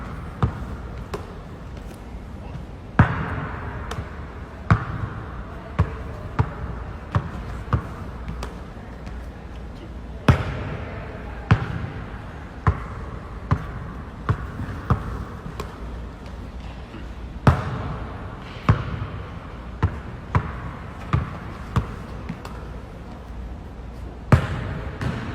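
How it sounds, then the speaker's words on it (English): A basketball is pounded hard on a court during a full-speed dribbling drill, sharp loud bounces coming in irregular bursts and clusters with short pauses, over faint background noise. "trying to handle the basketball, pound the basketball as hard as we can"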